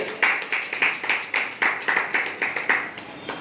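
A small gathering claps in a slow, regular rhythm, about a dozen distinct claps close by, honoring a tehsil official at a meeting.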